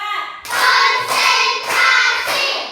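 Class of students clapping hands in a rhythm counting game, a voice calling the count, then four loud, evenly spaced bursts of group clapping.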